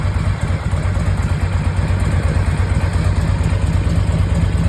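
A 2006 Harley-Davidson Ultra Classic Electra Glide motorcycle idles steadily up close, its low, loping engine throb continuous and loud for the whole stretch with no talk.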